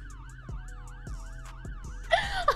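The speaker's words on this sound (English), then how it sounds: "Miss, turn off your sirens, please. It's too loud." In the Roblox game Brookhaven, a wailing siren sweeps up and down steadily behind a low rhythmic thumping, with a brief burst of bright noise near the end.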